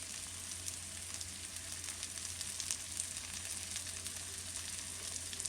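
Two pre-measured squares of butter melting in a pan, giving a steady, soft, close sizzle with fine crackle that holds evenly throughout, no voices present.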